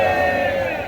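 A large crowd at a rally in Gwanghwamun Square lets out a loud, sustained shout that holds as one continuous roar of many voices for under a second.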